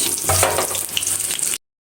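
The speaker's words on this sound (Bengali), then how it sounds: "এই মাছগুলো লাল লাল করে ভাজা হয়ে গিয়েছে উঠিয়ে নিব" Fish sizzling as it fries in a pan: a steady, close crackling hiss that runs without a break, then cuts off abruptly after about a second and a half.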